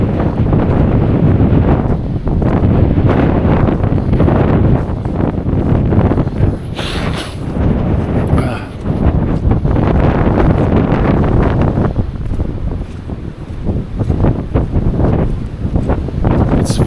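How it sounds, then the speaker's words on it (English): Wind buffets a microphone outdoors on a cold, blustery day, a loud, steady low rumble with gusty surges that runs for the whole stretch, with no voices. "It's windy and it's on the cold side."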